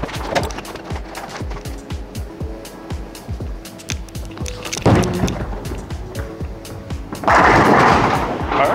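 A Storm Night Road bowling ball rolls down a bowling alley lane with a continuous rumble amid background lane noise, then a loud crash of pins being struck near the end.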